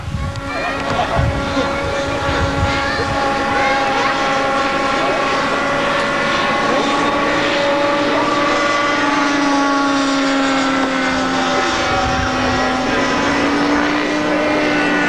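Helicopters performing loops, tight turns and rolls at a 1981 air meeting in Yverdon give off a loud, sustained engine and rotor drone with shifting pitch, heard under ongoing commentary.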